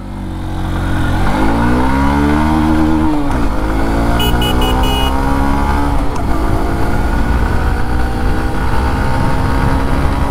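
A small, underpowered motorcycle pulls away from a standstill in first gear, its engine revving up loud and close, dropping briefly at the gear change, then climbing again as it builds speed.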